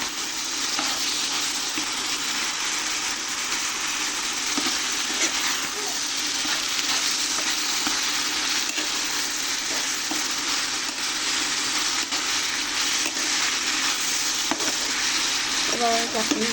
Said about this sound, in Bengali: এবার কাঁচামরিচ ভেজে নেব।